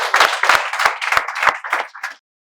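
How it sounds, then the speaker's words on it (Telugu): A small group welcomes students with applause: about eight rhythmic bursts of clapping, close and loud, fading out after a couple of seconds, no speech. "మేమందరం చప్పట్లతో స్వాగతాన్ని తెలియజేస్తున్నాం"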